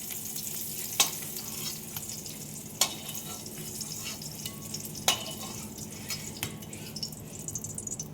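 Eggs fry in hot oil in a kadai with a steady, soft sizzle and occasional sharp pops and clicks, quiet and close, with no talk.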